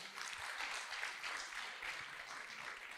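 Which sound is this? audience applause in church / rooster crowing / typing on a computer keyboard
audience applause in church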